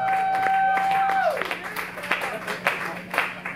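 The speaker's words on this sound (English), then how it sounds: "Give him a round of applause." Scattered applause and clapping from a live show crowd at a club, greeting the keyboard player, ragged and moderate under a sustained keyboard tone and crowd noise.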